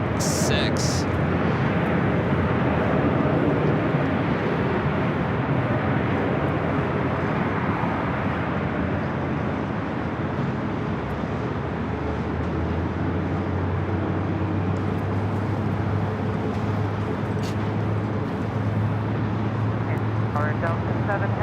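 An Air New Zealand airliner arrives on the south side at LAX with a broad, steady jet roar that stays loud throughout and gradually shifts into a lower engine drone, while a voice talks over it.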